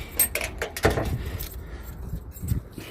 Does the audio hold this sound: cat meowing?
no